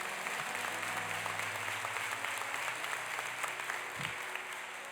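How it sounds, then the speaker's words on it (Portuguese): Congregation applauding the Lord Jesus during an evening church service, a dense, steady wash of clapping that fills the room evenly throughout, with faint low tones of organ or keyboard lingering beneath. "Você pode aplaudir o Senhor Jesus?"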